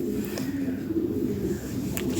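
Lahori Sirazi pigeons coo softly and continuously at close range, with a faint low murmur underneath.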